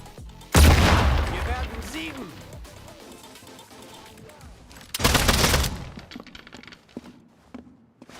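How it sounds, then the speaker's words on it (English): Bursts of machine gun fire in the Sniper Elite Resistance video game: a loud rapid volley, quieter rattling and distant booms, then a second heavy burst, with game effects between. "I'm going to get the machine gun ready."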